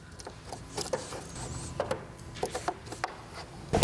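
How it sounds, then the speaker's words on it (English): Chrome delete vinyl is pressed onto the trim of a 2023 Ford Explorer with a squeegee, making close, uneven rubbing and scraping strokes with small taps, moderately quiet and with no talking. "Once you have it aligned, you start squeegeeing down"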